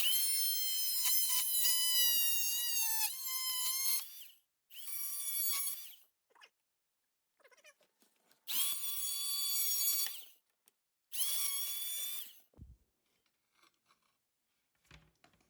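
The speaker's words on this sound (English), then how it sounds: "we put our saw blade on our scrap piece of flooring that we'd be using as a height guide, and then we just let the saw do the work" A power saw cuts through a piece of trim with its blade resting on scrap flooring as a height guide; four bursts of high, whining motor sound start and stop, with near-silence between them.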